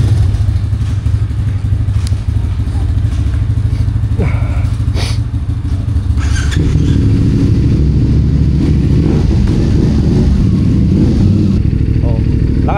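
A motorcycle engine running steadily on the Halsema Highway in the Philippines, a loud, continuous low rumble with occasional clatter, and a voice talking over it now and then.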